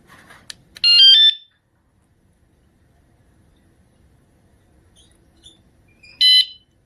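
Two short bursts of bright electronic beeps from a bicycle alarm arming, a quick rising chirp sequence, separated by several seconds of near silence.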